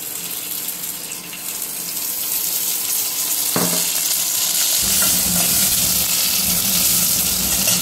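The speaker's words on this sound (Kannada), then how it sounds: "ಇದಕ್ಕೆ ಸ್ವಲ್ಪ ಎಣ್ಣೆನ ಸೇರಿಸಿ ಫ್ರೈ ಮಾಡ್ಕೊಳ್ಳೋಣ ಈರುಳ್ಳಿ ಮತ್ತು ಮೆಣಸಿನ್ಕಾಯಿ." Onions and green chillies frying in oil for a village-style leafy greens curry: a steady, close sizzle that grows louder and fuller midway as more goes into the pan, with a brief clatter of stirring.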